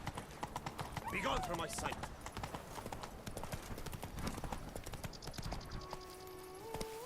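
Roach the horse clip-clops in The Witcher 3, hooves thudding in quick steady rhythm close by, under spoken dialogue and game sounds, with a brief whinny early on.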